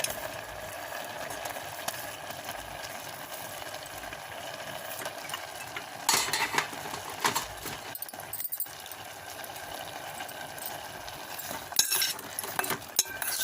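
Jaggery going into a cooking pot of sesame pongal, followed by a steady soft stir with a spoon and faint metallic clinks against the pan, alone and moderately quiet.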